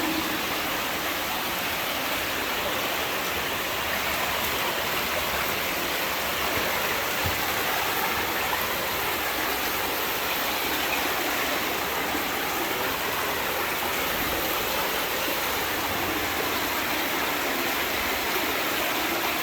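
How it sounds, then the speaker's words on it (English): Fast water rushes loudly and steadily through a dark escape tunnel in Arkansas, a dense unbroken roar with no voices over it. "water's picking up in speed a little bit"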